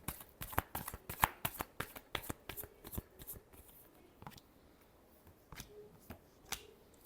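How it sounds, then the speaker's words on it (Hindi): A deck of cards being shuffled: a quick run of sharp riffling slaps and flicks, close and faint, thinning out into a few scattered snaps toward the end, with no talk. "Last shuffle."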